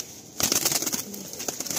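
Released pigeons of a Madrasi loft in Kolkata take off with a sudden close burst of fluttering wing beats, a rapid irregular flapping that continues after a quiet start.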